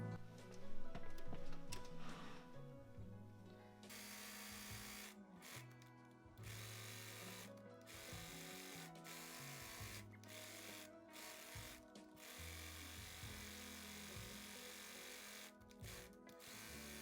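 A sewing machine stitches a blouse waistband and bodice together in a layered sandwich, whirring in several short runs separated by brief pauses, fairly close and steady.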